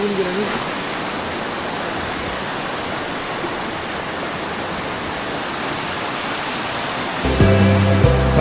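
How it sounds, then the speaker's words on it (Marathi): A river cascading down beside Keshavraj temple in Dapoli roars as a dense, steady rush of falling water, loud and unbroken, with a brief louder disturbance near the end. "कोसळ होणारी नदी"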